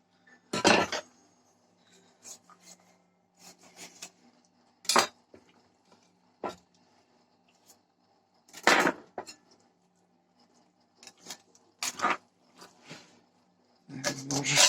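A sharp small cleaver chopping carp on a board, with about a dozen separate thuds and clacks spaced irregularly across quiet gaps, close by and fairly crisp.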